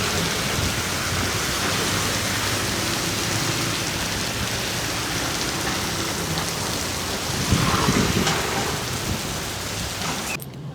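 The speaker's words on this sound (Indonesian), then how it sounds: "Anginnya kencang sekali tuh." Heavy rain and storm noise roar steadily during a downpour over a muddy creek in West Java, with a broad gusty wash of wind and a louder surge near the end.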